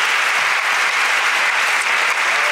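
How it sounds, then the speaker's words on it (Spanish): A live audience at a Spanish comedy podcast recording breaks into dense, continuous applause, loud and close, with no voices over it. "Por favor, un aplauso a todos y todas las personas que nos han acompañado hoy en la rueda."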